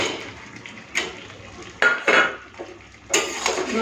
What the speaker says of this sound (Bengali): সাবধানে নাড়তে হবে যেন মাছগুলো না ভেঙে যায়